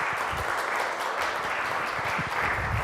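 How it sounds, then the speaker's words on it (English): An audience claps for a guest speaker at a talk on Irish immigration into the upper Midwest, a dense, steady round of many hands close by, holding evenly for a few seconds before cutting off. "How about a round of applause for Greg?"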